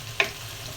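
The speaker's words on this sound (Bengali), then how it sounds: "পেঁয়াজটা একটু ভালো করে ভেজে নেব।" Onions frying with garam masala in a pan give a steady, faint sizzle throughout, with one brief sharp burst near the start and no voices.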